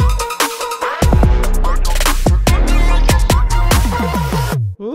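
Swaggy girl-group K-pop instrumental beat with heavy booming bass hits, punchy drums and dense layered synths, loud and continuous throughout, cutting off abruptly at the end with no voices.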